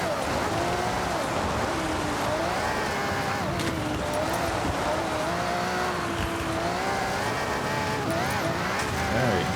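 Rally car from Forza Horizon racing along a forest route through trees, its engine holding a steady, wavering drone with shifting pitch, loud and continuous from start to finish with some tire noise.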